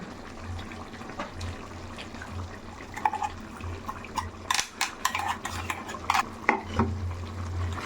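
Chicken simmering with gravy paste in a clay pot, stirred with a spoon that scrapes and clinks against the sides in irregular bursts, over a low steady hum, with no voices.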